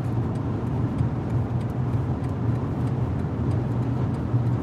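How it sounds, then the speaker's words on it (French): Wind rushes past the mirrors of a BMW 7 Series cruising at 190 km/h, a steady mid-level hiss and rumble heard from inside the cabin. "le seul bruit que j'ai là, c'est les rétros, en fait, au niveau des rétros."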